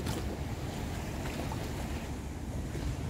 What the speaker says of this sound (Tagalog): At yun naman ang ferry boat terminal.